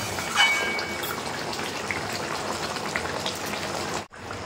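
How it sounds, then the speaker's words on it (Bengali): Fish curry gravy, made from a 13 kg katla fish with potol, boils vigorously in a pot, giving a steady dense bubbling roar that runs throughout and breaks off briefly near the end. "ঝোল টকবগিয়ে ফুটে গেছে"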